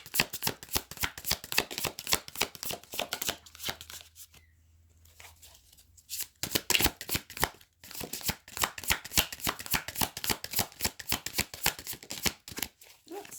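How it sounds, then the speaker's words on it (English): Tarot cards being shuffled by hand, close and crisp, in rapid riffling bursts that pause briefly midway before resuming in a steady rhythmic flutter, with no talking. "I might have to just shuffle a little bit more."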